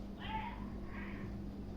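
A cat gives two short meows close by, one right after the other, against a quiet background.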